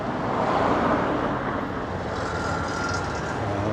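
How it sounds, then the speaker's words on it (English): Dense road traffic streams past along the moat in Chiang Mai, a loud, continuous wash of car, motorbike and truck engines close by, with no gaps between passing vehicles. "There's so many vehicles passing me by. It's just so loud"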